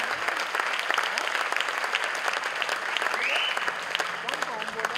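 Crowd applause rings out at a mallakhamb pole-gymnastics show, dense continuous clapping from a large audience with a few voices and cheers mixed in, sustained throughout.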